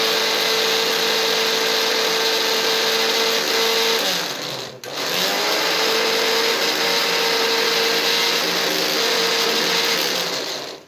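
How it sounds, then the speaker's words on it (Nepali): An electric mixer grinder whirs loudly and steadily while blending homemade tooth powder with salt and turmeric, briefly dipping to a stop near the middle before spinning back up. "यसलाई हामी मिक्सरमा मिक्सिङ गर्छौँ।"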